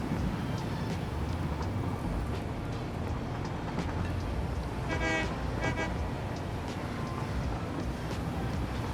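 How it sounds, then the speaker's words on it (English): A train in the video game Satisfactory rumbles along under a dense, steady mechanical drone, with a brief horn-like toot rising midway through. No voices are heard. "the train will drive itself there, I've set it to go"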